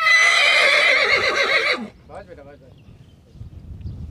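A horse bred in the Jalore belt of Rajasthan gives a loud, close whinny lasting nearly two seconds. Quieter snorts and low shuffling follow.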